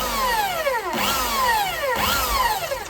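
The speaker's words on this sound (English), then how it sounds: "The next step is to drill the mark points." A power drill whines loudly, its pitch sliding down and then rising again in repeated cycles as it bores holes into a plastic container.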